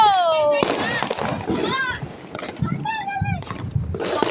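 Diwali sky rockets whistle with rising and falling tones and burst with sharp bangs, one after another, while excited voices, including a child's, talk over the show.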